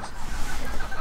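A bantam breeding flock of Wyandotte and Livorno crosses clucks close by in a short, busy burst of overlapping low calls.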